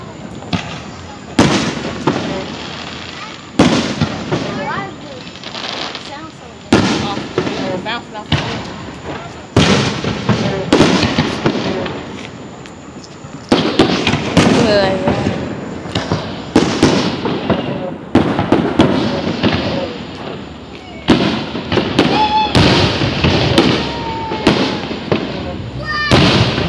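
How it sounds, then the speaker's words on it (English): Fourth of July fireworks display downtown, with repeated loud booms and crackling bursts arriving in irregular clusters throughout, and crowd voices murmuring underneath. "I try to get y'all a clip of the fireworks because we had went downtown to see"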